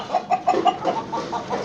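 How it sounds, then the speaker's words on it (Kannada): A Brahma chicken, a large, heavily feathered breed, clucks close by in a quick series of about ten short, fairly loud notes that soften toward the end. No one speaks. "ಇದು ಸರ್ ಅದು ಬ್ರಹ್ಮ ಚಿಕನ್ ಹೇಳ್ತಾರೆ ಸರ್."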